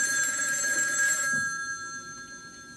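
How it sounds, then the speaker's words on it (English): A telephone bell rings loudly with a bright, trilling tone for about a second, then stops abruptly, leaving a quiet room with a faint residual hum. "Suddenly, the phone rang."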